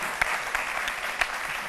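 A French TV studio audience on a midday talk show gives a moderate round of applause, a close, even wash of many hands with a few sharper claps standing out.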